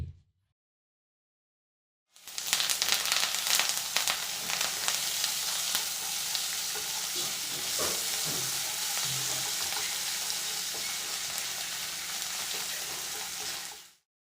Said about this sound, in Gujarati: થોડા મીઠા લીમડાના પાન ઉમેરી મસાલાને એક મિનિટ સાતડી લે